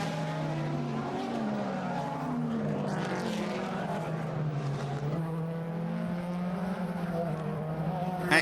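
DTM touring race cars at the Nürburgring in the 2010 season scream past, engines rising and falling in pitch as they pass one after another, loud and continuous with no commentary over them.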